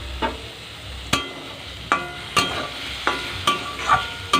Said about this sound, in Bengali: ভালোভাবে নেড়ে নিচ্ছি